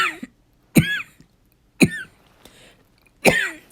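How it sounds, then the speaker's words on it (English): Three sharp, harsh coughs spaced about a second apart, close and loud, with brief silences between them. "Sorry for the coughing"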